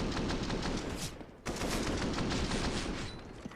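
Continuous gunfire in a Counter-Strike match, dense rapid automatic bursts filling the sound with one brief break before the shooting resumes, loud and close.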